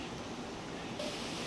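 Harisankar waterfall near Harisankar temple, a steady broadband rush of falling water that holds constant for the whole moment and grows slightly brighter partway through, with no voices.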